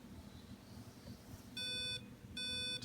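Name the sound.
embedded alarm system beeping in warning state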